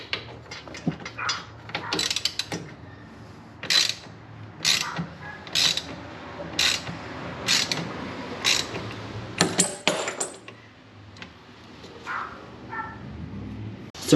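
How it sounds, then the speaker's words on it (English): A ratchet with a 1/2 inch socket tightening clamps for a Truxedo Sentry hard rollup tonneau cover on a Ford Maverick, with close, loud bursts of rapid clicking in repeated strokes separated by brief pauses. "take your 1/2 inch socket and tighten them down"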